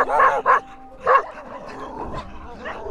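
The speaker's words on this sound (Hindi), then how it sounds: "अरे यार ये कुत्ता कुछ ज़्यादा ही आ रहा है यहाँ" Close by at a winter campsite in extreme cold of about -29°C, a dog gives three sharp barks in quick succession, then quieter muffled sounds follow.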